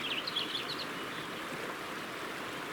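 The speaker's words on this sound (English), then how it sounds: "here's the south fork of the Merced River" Water of the south fork of the Merced River runs steadily in a soft, continuous rushing hiss, faint and somewhat distant, with a few high bird chirps early on and no voices.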